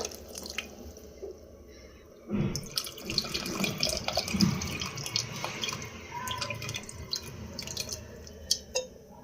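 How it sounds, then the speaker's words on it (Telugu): Tamarind pulp poured into a pot of simmering sambar in a home kitchen: wet splashing and dripping pours close by, steady with a brief louder gush, and no talking. "ఇప్పుడు ఈ చింతపండు గుజ్జు కూడా వేసేసుకుందాము"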